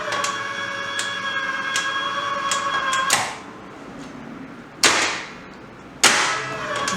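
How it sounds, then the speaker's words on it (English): A Hyundai HGN16 air circuit breaker tripped by hand, with a loud sharp mechanical clack at about three seconds, followed by two more sharp clunks later, over a steady electrical hum with faint ticks in the background. "At first, we trip the breaker manually."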